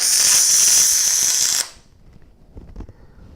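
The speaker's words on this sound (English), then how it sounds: "I'm going to put a little weld on here" Steel being tack welded, a loud steady hiss and crackle of the arc for about a second and a half that cuts off abruptly, followed by faint handling noise.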